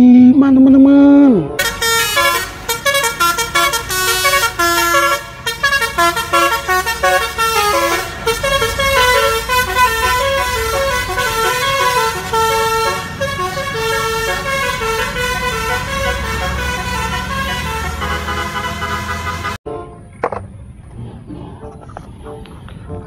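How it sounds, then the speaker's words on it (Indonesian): Budiman bus's musical air horn plays a loud, rhythmic tune of rising and falling tones close by for nearly twenty seconds, then stops suddenly as quieter street noise continues. "Ada bus Budiman teman-teman."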